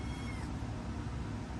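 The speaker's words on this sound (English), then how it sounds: "And I'm sure you do hear the kittens in the background meowing away" Eight-week-old rescued kittens meow in the background, their soft cries faint and mixed into a steady room hum with no speech.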